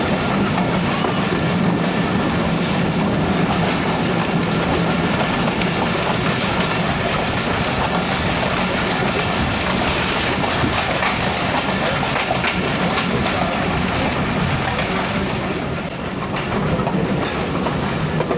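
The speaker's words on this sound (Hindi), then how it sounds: "जिसके नीचे से अब ट्रेन गुजर रही है।" A passenger train rolls beneath a highway bridge on a line between Sialkot and Wazirabad, a loud, continuous close rumble with rhythmic clickety-clack of wheels and faint squeal throughout.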